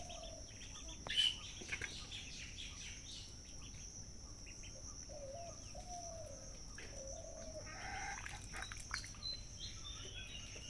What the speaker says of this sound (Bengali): বংশীয় মোরগ